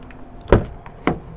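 Two sharp mechanical clunks, about half a second apart, come from the passenger door of an Etrusco T5900 DB motorhome being unlatched and swung open, loud and close against a quiet background.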